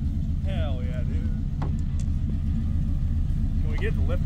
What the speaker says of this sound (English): Listen to this thing though. It sounds good. Even back here, like, check out the exhaust. It sounds pretty good.